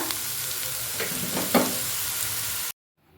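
Half-cooked vegetables being stirred in a pan, with a steady close sizzle and a few scraping strokes before it cuts to silence.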